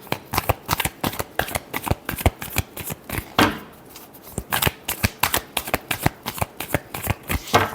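Tarot cards are shuffled by hand in rapid, crisp riffling bursts with a short pause midway, close and clear with no talking.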